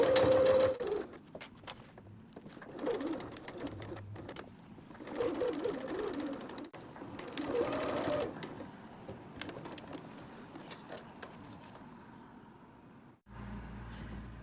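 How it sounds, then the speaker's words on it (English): A sewing machine stitches across the four box corners of a cosmetic bag at a 3/8 seam allowance, running in several close, steady bursts separated by short pauses. "we're going to sew across here with a 3/8 seam allowance on each of the 4 corners"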